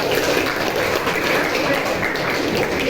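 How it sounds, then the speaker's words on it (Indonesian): A school group claps together in a room, a dense, steady patter of applause that stays even and close throughout the few seconds. "Tepuk tangan untuk kita semua."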